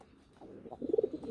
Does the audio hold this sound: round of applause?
no